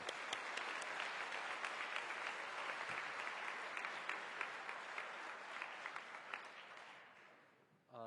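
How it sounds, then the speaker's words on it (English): An audience applauds contestants at the close of the MIT Battlecode 2009 final tournament, a dense steady wash of many hands clapping that carries on for several seconds before thinning and fading out near the end. "Let's give the contestants another round of applause."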